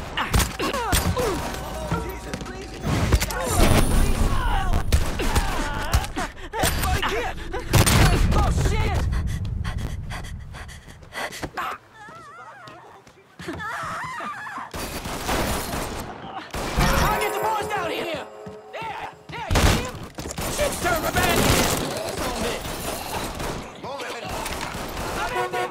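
Gunfire in the video game Mafia III during a rescue mission, with bursts of rapid shots and fusillades mixed with loud game dialogue, shouting and panting over a busy combat soundtrack.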